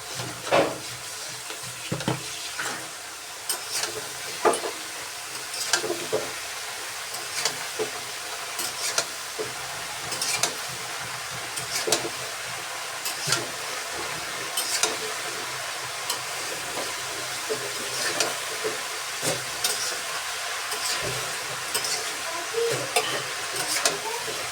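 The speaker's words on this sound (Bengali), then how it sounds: "দিয়ে দিলাম সব লাউ একসাথে, এখন নেড়ে চেড়ে নেবো ভালোভাবে" Bottle gourd is stirred in a cooking pan, with a steady sizzle and hiss of frying under repeated scraping and clattering strokes of a utensil against the pan, close and continuous.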